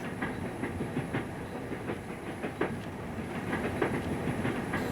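Train wheels clickety-clacking over rail joints, a sound effect in an amateur lockdown radio play; steady rhythmic clacks over a rumbling carriage hiss, close and continuous, without voices.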